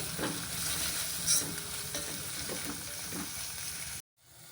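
Onions with ginger and turmeric fry in a pan, giving a soft, continuous sizzle broken by a few light stirring scrapes, close and fairly quiet, cutting off abruptly near the end.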